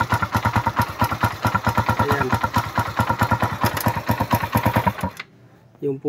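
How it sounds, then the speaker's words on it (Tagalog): Suzuki Raider motorcycle engine idling with a noisy ticking fault, a rapid, even clatter of sharp ticks close up for about five seconds before cutting out, with someone speaking briefly over it. "Pakinggan natin yung makina dahil maingay yung makina nito"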